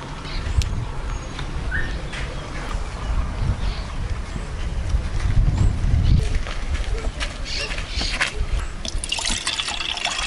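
Fresh water poured into a cup on a century-old countryside farmhouse, a steady liquid trickle and fill under outdoor ambience with faint birds.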